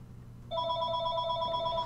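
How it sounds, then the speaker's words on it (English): A telephone rings with a steady, bright electronic trill that starts about a quarter of the way in and continues unbroken to the end, loud and close over a low background hum, with no talking. "Sorry about the phone ringing."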